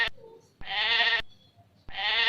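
Two loud, wavering goat bleats separated by a short pause, close and clear against a quiet background.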